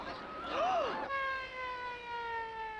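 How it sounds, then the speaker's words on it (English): A loud emergency vehicle siren sweeps up and down through heavy traffic, then settles into a steady, slowly falling wail that fades as it continues. "Boy, that siren got us through some pretty rough traffic."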